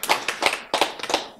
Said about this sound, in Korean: 그래서 박수를 쳤지.